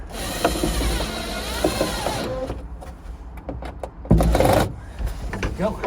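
Screws are driven in while fitting fire safety sticks, a brief whirring mechanical burst amid handling clatter and someone talking over it.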